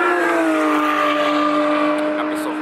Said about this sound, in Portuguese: Agora é que vai passar um Porsche.